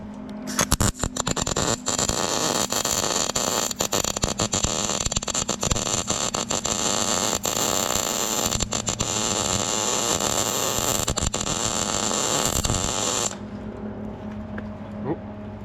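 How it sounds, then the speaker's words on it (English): Spot welding with a welder on a County Line wood splitter: a loud, steady crackling hiss runs almost unbroken for about thirteen seconds, then cuts off, leaving quieter room noise. "We welded our thing on."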